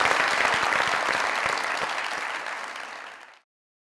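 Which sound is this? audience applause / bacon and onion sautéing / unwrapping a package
audience applause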